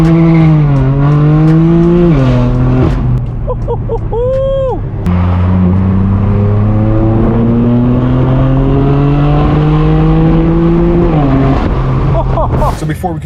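Straight-piped BMW M4 F82 exhaust heard from inside while driving, a loud continuous drone rising through gears with shifts, a brief tire chirp midway and revs climbing near the end, with some speech over it.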